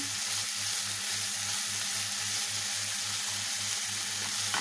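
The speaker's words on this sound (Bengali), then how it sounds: "এবার নেড়ে চেড়ে কষে নিচ্ছি পেঁপে তো একটু না কষালে আর কি ভালো লাগবে না" Boiled potato and papaya sizzle steadily with spices in a hot pan while being stir-fried, a constant close frying hiss with faint stirring underneath.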